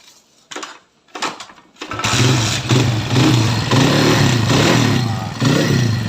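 A troubled Tiger motorcycle cranks with a few short bursts, then catches and runs at a loud, steady idle with slight rises and dips in engine pitch.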